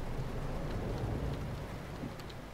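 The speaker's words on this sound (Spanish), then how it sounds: "Encima está lloviendo." Steady broadband rain in Euro Truck Simulator 2, a dense continuous hiss over a low rumble from a truck cab, loud and unbroken with faint scattered droplet ticks.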